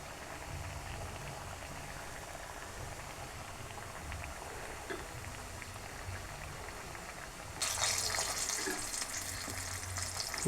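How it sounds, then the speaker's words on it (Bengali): Singara pastries deep-frying in hot oil give off a steady, close sizzle with no talking, and the sizzle swells noticeably louder in the last few seconds. "এখন আমি এগুলো ভেজে দেখাবো।"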